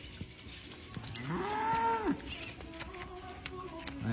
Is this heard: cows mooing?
yes